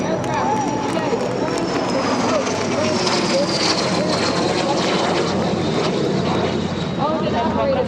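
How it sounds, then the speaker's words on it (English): A pink L-39 Albatross military trainer jet passes during an airshow at Oshkosh, its loud continuous engine roar and whine sweeping steadily across the whole stretch with crowd ambience beneath. "The pink jet is an L-39 Albatross military trainer jet"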